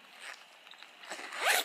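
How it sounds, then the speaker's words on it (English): A zipper is pulled closed in a couple of short drags, ending in a quick rasping zip, close and fairly quiet. "zipper up, and you're good to go"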